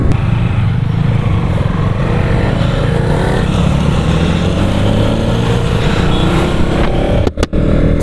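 A 2021 KTM Duke 200 BS6 motorcycle engine running loud and close, a steady throbbing drone that holds for several seconds before a sharp brief break near the end, no voices.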